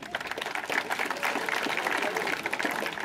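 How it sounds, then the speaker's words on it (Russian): An audience applauds a fighter at a bare-knuckle fight show, a fairly distant crowd clapping in a steady wash that swells slightly in the middle. "И эти аплодисменты еще раз тебе."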